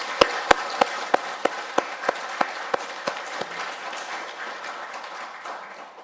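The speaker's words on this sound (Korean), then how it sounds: "우리 하나님께 감사하고 또 주님께 영광 돌리는 박수로 이렇게 할까요?" A church congregation at a Sunday worship service claps, the dense applause punctuated by a run of sharp, evenly spaced claps that grow softer and slower before the whole sound fades away.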